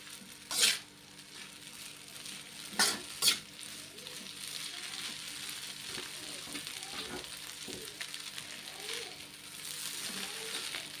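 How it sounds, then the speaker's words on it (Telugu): Egg noodles frying in a home kitchen pan give a steady soft sizzle throughout, with a few sharp scraping or clinking stirs near the start and occasional light spatula movements. "ఒక్క నిమిషం వేగనిద్దాం వీటిని."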